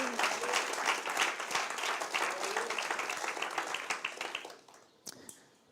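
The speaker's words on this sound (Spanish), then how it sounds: "¿Cuántos pueden darle un aplauso al Señor?" A church congregation bursts into dense, enthusiastic applause that holds steady for several seconds, then tapers off, leaving a few scattered claps near the end.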